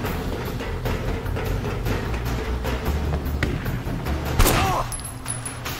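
Rapid repeated gunfire in Sleeping Dogs rattles steadily as a dense fusillade of sharp cracks, capped by a louder close burst near the end, no talking.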